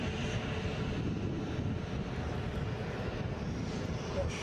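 An easyJet airliner on an airport runway produces a steady, broad engine roar at a moderate distance, continuous throughout with faint outdoor background.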